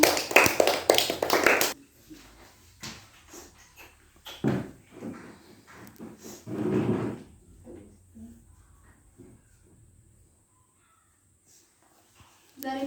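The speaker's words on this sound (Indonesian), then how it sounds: "tepuk tangan dulu untuk Sam" Pupils in a fourth-grade primary classroom clap for a classmate named Sam, a short burst of loud close-up applause at the start that dies away into scattered taps and faint room noise.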